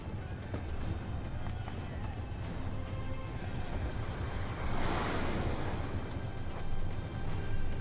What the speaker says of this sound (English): Sure is a windy night out here tonight, apparently.